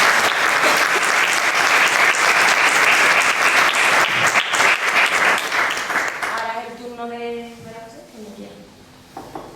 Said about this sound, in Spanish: Si quiere un aplauso